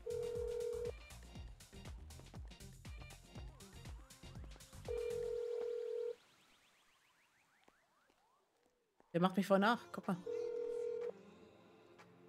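Phone ringing during a GTA roleplay game session, repeated electronic ring bursts with pauses, followed by a dial or connection tone, while someone talks over parts of it.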